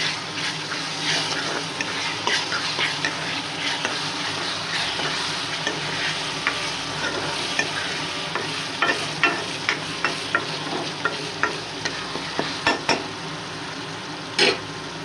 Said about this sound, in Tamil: இப்போது இஞ்சி பூண்டு பேஸ்ட் ஆட் பண்ணிக்கலாம். இதையும் நல்லா வதக்கிக்கலாம்.